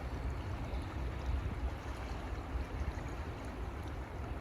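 Steady broadband rush of river water flowing outdoors, a continuous low churning wash with no pauses, moderately loud and unbroken throughout.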